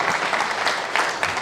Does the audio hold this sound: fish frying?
no